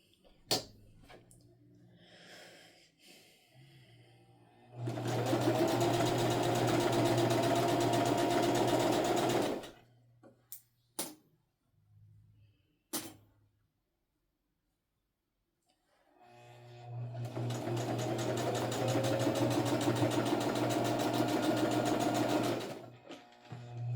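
A sewing machine stitches fabric for a homemade makeup bag in two long, steady runs of rapid whirring, close and loud, separated by a quiet pause with a few handling clicks and bumps.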